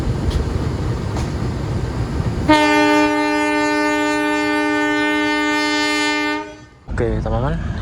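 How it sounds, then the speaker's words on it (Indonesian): The Ijen Express departs Bangil station, opening with platform rumble before a loud, sustained train horn blares for about four seconds, cuts off, and gives way to a shorter second blast. "Kereta api Ijen Express berangkat dari Bangil ya."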